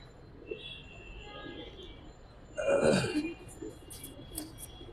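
An old-breed giribaz pigeon gives a short, low, throaty coo at close range, rising briefly over a soft background murmur.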